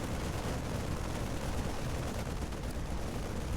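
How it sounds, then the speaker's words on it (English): A Terran bunker in StarCraft II firing steadily at a Protoss Nexus, a dense continuous rattle of gunfire and impacts that stays loud and even throughout with no pauses. "now we have this bunker shelling away at the Nexus"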